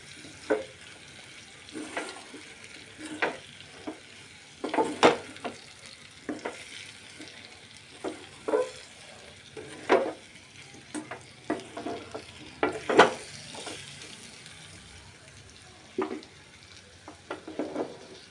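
Chicken liver fry being stirred in a pan, with a spoon scraping and clinking at a steady intermittent rhythm over a low, continuous sizzle, close and fairly quiet with no talking.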